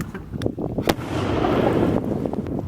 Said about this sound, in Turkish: İnanılmaz bir patlama oldu arkadaşlar.